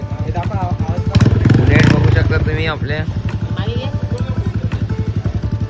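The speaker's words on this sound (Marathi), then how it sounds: "आमच्या एका गाडीचा सायलेन्सर तुटला" A Bullet motorcycle with a broken silencer idles close by, a loud pulsing thump that surges briefly when revved, while a person talks over it.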